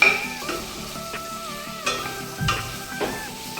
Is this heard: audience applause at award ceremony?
no